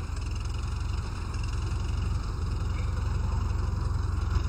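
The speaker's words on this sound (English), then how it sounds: "Listen to that mighty engine roar." A tractor engine in Farming Simulator 17 rumbles at a steady, low, continuous drone, holding an even idle-like tone throughout with no voices over it.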